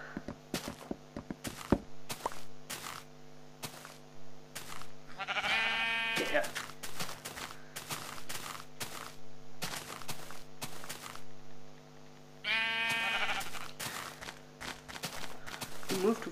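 Video game sheep bleat in two drawn-out wavering calls, separated by several seconds. Regular thudding footstep-like knocks run throughout over a steady background tone, with a person talking.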